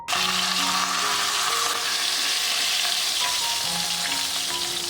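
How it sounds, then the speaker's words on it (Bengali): Catla fish heads frying in hot oil for chachra, a loud, constant bubbling sizzle close up, steady throughout with no speech. "মাখিয়ে রাখা কাতলা মাছের মাথাগুলো এক এক করে তেলের মধ্যে দিয়ে খুব ভালো করে এপিট ওপিট ভেজে নিতে হবে।"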